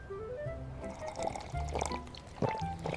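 Water pouring into a big glass, a liquid gurgle and splash rising in bursts over a soft musical background tone, fairly close and moderately loud.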